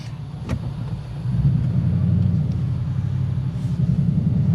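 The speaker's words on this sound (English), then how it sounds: "It wants to rev out in order to get anywhere, any power, and you'll hear that when we take off." The engine of a manual-transmission Ford Crown Victoria rumbles low and deep, swelling louder as the car pulls away and then holding a steady drone.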